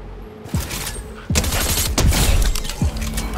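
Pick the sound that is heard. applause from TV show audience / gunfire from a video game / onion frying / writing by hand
gunfire from a video game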